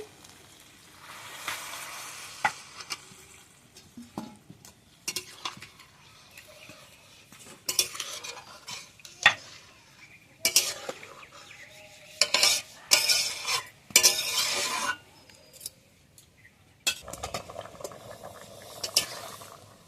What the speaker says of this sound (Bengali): এবার আমি জল দিয়ে দেবো। ঘুগনির মধ্যে আমি গরম জলটাই ব্যবহার করছি।